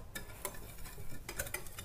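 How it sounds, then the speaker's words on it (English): Caster sugar and Ceylon cinnamon are stirred together in a bowl with a spoon, giving light, quiet scraping and a few sharp ticking clinks against the side, close and with no talking. "So we just want to carefully mix that together,"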